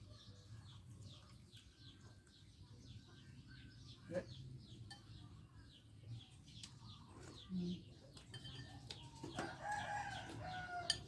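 A rooster crows faintly in the distance over a low outdoor rumble, with other birds chirping around it, in a rural Thai village setting.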